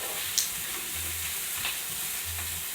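Tequila poured into a hot pan while cooking shrimp, giving a soft even sizzle with a sharp tick near the start and faint stirring scrapes, fairly quiet and without talk.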